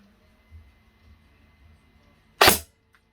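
An airsoft DMR, the Secutor Rapax, fires a single 0.4 gram BB through a chronograph, one sharp loud snap near the end after a quiet stretch with faint handling bumps.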